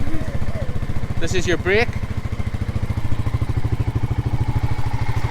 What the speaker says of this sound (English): Use the thumb throttle just to rev it.